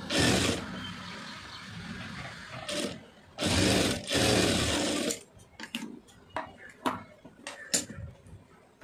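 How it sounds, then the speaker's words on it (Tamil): A sewing machine stitches a knot design for a blouse, running in three loud bursts of rapid whirring, followed by scattered clicks and fabric handling. "இதில் தையல் போட்டுடலாம் பிரிஞ்சிடாமல்."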